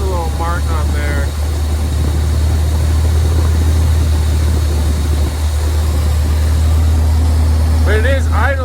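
A car engine idles steadily after timing and carburetor adjustments, a loud, constant low rumble close to the microphone, with someone talking briefly at the start and end.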